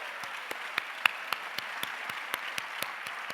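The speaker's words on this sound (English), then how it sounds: "let's give them a round of applause" Scattered, fairly sparse clapping from a seated audience at a school district management meeting, individual sharp claps spaced irregularly and moderately loud, with no talking.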